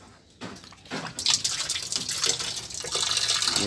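Water pours into a washing machine during a clogged drain repair, a rushing, splashing gush that starts faintly, surges after a second and then keeps flowing steadily and fairly loud, with no talking.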